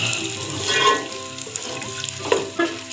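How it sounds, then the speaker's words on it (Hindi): Large onions, finely chopped, sizzle steadily in hot oil in a pan while cooking for a curry, with occasional light stirring clatter over the continuous frying hiss. "प्याज को मैं अच्छे से फ्राई कर लूँगी गोल्डन ब्राउन होने तक"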